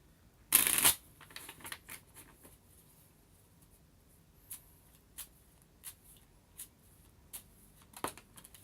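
Tarot cards are shuffled at close range: one loud riffling burst at the start, then a series of faint, evenly spaced card taps and slides.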